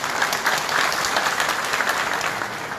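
A meeting audience of local officials in Hatay claps steadily, a short, dense round of close applause with no pauses.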